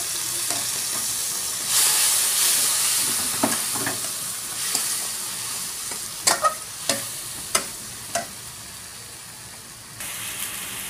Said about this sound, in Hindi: थोड़ा सा लहसुन और इसको अच्छी तरह फ्राई करेंगे